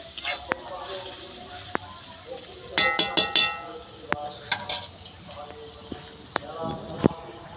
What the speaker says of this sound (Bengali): দিয়ে দিলাম গাজরের একটু নেড়ে নেবো